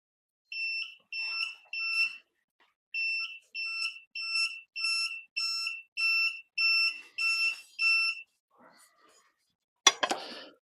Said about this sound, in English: Maybe it beeps more when you get closer.